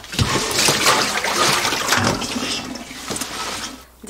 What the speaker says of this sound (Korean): 이제 이렇게 깨끗한 물이 나올 때까지만 씻어서 이제 물을 빼서 준비해 보겠습니다.